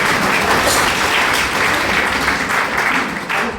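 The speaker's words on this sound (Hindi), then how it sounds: "तालियां एक साथ बजाना" Loud, dense applause from a live audience at a poetry recital fills the space continuously, a steady wash of many hands clapping with no gaps.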